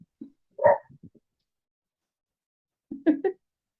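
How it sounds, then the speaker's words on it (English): Two dogs bark and yip at each other in two short bursts, a couple of quick barks then a pause, then another cluster, fairly close with silence between. "Odin and Kim are barking at each other right now."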